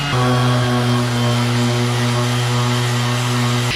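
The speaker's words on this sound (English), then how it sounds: "we brought some Ryobi battery operated sander out" A Ryobi battery-operated sander polishes the wheels of a Campagna T-Rex, giving a loud, steady motor drone that holds without pause and with no voices.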